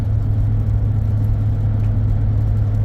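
A 2006 Chevy driving along with a steady low engine hum and road rumble from inside the cab, loud and even, without audible shift changes in this short stretch and with no one talking.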